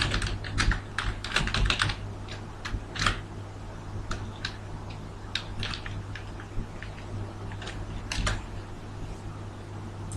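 Close, brisk typing on a computer keyboard, with quick bursts of clicking keystrokes and short pauses over a steady low electrical hum, no voices.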